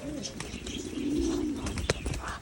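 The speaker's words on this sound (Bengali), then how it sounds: "এই যে পায়রাটা এই যে ও খুব সুন্দর" A pigeon coos softly in a low, rolling murmur, with a few faint chirps and light background rustle around it.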